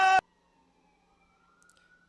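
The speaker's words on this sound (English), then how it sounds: "Here's our first siren today." A short burst of sound gives way to a faint, distant siren wailing steadily outside, the tone rising slowly and staying quiet throughout.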